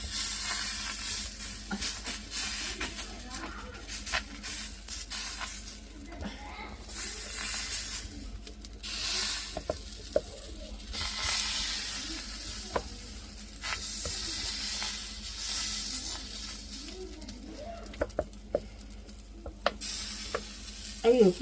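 Dosa batter frying on a hot pan, a steady soft sizzle and hiss running throughout with occasional scraping and clinks, fairly close, with no one talking.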